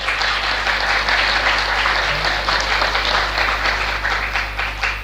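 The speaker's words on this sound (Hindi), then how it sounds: "तालियां।" An audience at a spiritual satsang discourse breaks into steady applause, a dense continuous clapping that holds at full strength for several seconds with slight swells, over a low steady hum.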